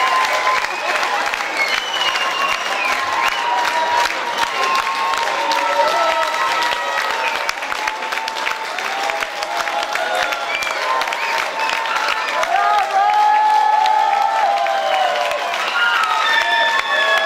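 Festival crowd at a village festival applauds loudly and continuously, dense clapping mixed with cheering, shouts and chatter from many people, including children's voices.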